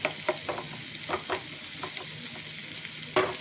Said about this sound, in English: Let's give it a light stir.